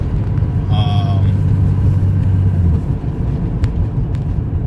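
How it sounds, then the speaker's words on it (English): A turbocharged BMW E36 fitted with a CX Racing turbo kit and a Miller Performance tune runs with a steady, loud low rumble, close up, settling slightly toward the end with a few faint clicks. "at least you guys get an idea of how the car runs with the CX Racing kit, Miller Performance Tune"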